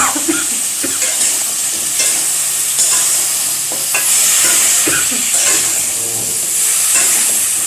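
Bottle gourd tipped into a hot pan and stirred, a loud continuous sizzle with repeated spatula scrapes and clinks, the frying swelling louder in bursts.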